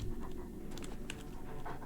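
Wolf in the video game Oblivion Remastered panting rapidly and steadily, close up and moderately loud, with a few faint clicks in the background.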